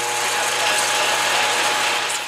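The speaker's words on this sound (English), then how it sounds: "Louvers open." Louvers on a homemade paint booth opening: a steady mechanical whirring and ratcheting, loud and close, with a low motor hum underneath and no talk.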